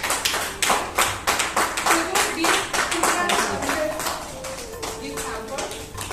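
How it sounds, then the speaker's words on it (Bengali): An audience claps at an award ceremony in a quick, crisp run of many hands while a voice speaks over it. "জোরে একটা হাততালি হোক।"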